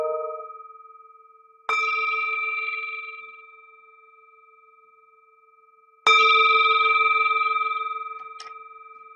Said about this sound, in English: let's begin with the sound of the bell.